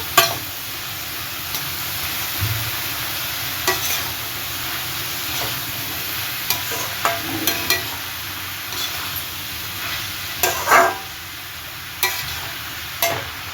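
Bottle gourd curry being stirred in a pan, close scraping and knocking strokes scattered over a low, constant frying sizzle, with no talking.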